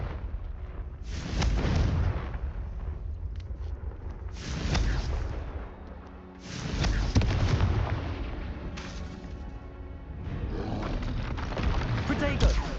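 Booming blasts from the Confringo spell in Hogwarts Legacy erupt again and again, four or five heavy explosive bursts in quick succession, each with a rumbling tail, amid other combat noise and a voice talking.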